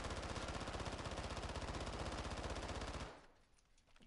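Rapid automatic gunfire from a weapon in the video game DMZ, a loud, steady stream of shots firing for about three seconds before cutting off abruptly into quiet game ambience.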